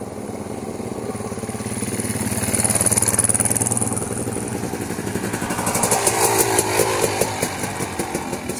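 Several KTM dirt bike engines idle and rev together at a trail ride meet, a near, loud, rattling drone that rises in pitch and fades, with no speech.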